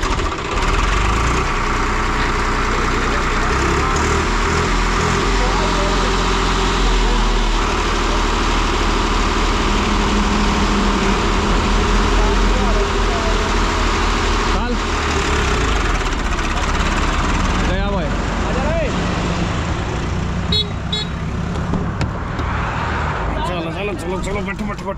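A Swaraj 733 tractor, 2023 model, runs with its engine idling in a low, steady rumble and slight knocking, while people talk loudly over it.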